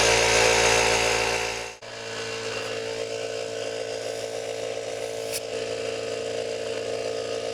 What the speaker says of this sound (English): once you're done blowing out the backflow preventer